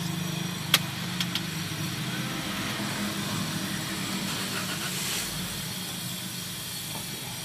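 A 2017 Daihatsu Sigra X manual with a 1.2-litre, 1200 cc four-valve-per-cylinder engine idles with the door open, a steady low rumble and hiss with a few sharp clicks early on.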